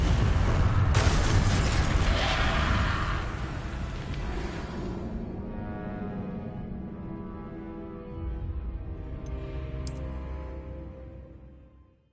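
Confringo fire spell explosions in the video game Hogwarts Legacy erupt in a loud blast at the start, then roll into a long rumbling decay that slowly fades to quiet, with no voices.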